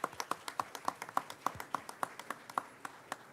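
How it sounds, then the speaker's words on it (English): At a school district board meeting, a small group claps for the new DAEP principal Joel Garcia as he walks up, a sparse, evenly paced run of distinct claps that sounds fairly quiet and thin, with no talking over it. "let's give him a round of applause as he comes up"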